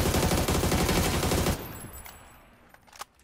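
Rapid automatic gunfire in PUBG, a dense burst of closely spaced shots for about a second and a half, then a quieter tail with a single faint distant shot, no speech.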